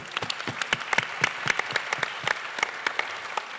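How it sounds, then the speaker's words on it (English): An audience at a Virgin Atlantic business event in Los Angeles breaks into sustained applause, many hands clapping in a dense, steady patter that fills the room without talk. "So give yourselves a round of applause."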